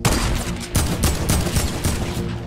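Burst of close, loud gunshots in Fortnite, a quick irregular volley of sharp cracks fired in rapid succession with almost no pause between them and no voices.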